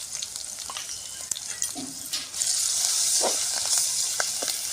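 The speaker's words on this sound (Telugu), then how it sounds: "అల్లం కొద్దిగా పచ్చి వాసన పోయే వరకు కలుపుకొని" Ginger and turmeric fry in oil in a pan with a continuous close sizzle that grows louder partway through, with scattered scraping and tapping as the spoon stirs them.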